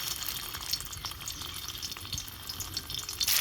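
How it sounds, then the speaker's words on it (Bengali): Eggs fry in mustard oil in a pan, a continuous close crackling sizzle with faint splattering pops that grows louder at the end, with no talking. "ডিমগুলো আমি এখান থেকে তুলে নিয়ে আর হালকা করে"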